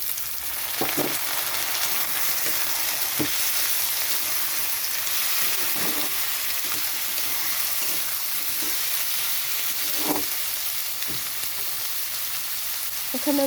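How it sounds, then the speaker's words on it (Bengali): Potatoes go into a pan of frying onion and garlic in mutton fat, making a steady, hissing sizzle up close with intermittent spatula scrapes and clinks. "তো এখানে আমি আলু দিয়ে দিচ্ছি।"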